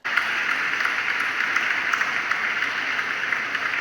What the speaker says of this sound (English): Jim Dean will now give you a round of applause.